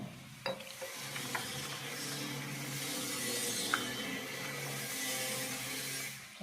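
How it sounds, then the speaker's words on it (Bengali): Prawns are stirred and mixed with mustard oil, a soft continuous wet stirring sound with a few small clicks, close and steady with no talking. "দিয়ে ভালো করে গায়ে লাগিয়ে মেখে আধ ঘন্টার মতো ঢাকা দিয়ে রেখে দেবো"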